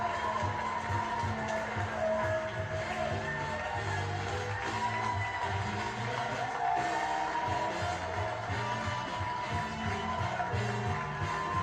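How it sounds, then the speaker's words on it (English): A studio audience at a newlywed couples game show cheers and applauds continuously, a dense wash of crowd noise with music-like tones underneath. "Big round of applause for all three of today's newlywed couples"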